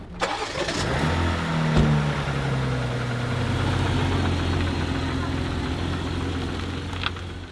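A car engine hums steadily while driving on the way to a gym in Lancaster, a low continuous drone with a brief rise in pitch early on and faint background noise throughout.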